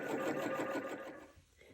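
A sewing machine stitches trousers, running a rapid, rhythmic mechanical whir for about a second before slowing and stopping, close and clear.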